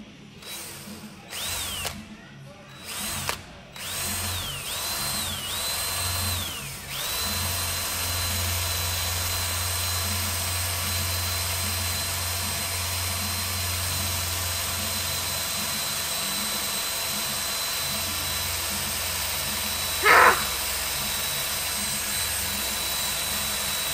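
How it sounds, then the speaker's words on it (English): A power drill bores holes for homemade tree climbing spikes, whining steadily in several short bursts early on and then in one long continuous run, loud and close with no talk. "Now that we're done with drilling all the holes"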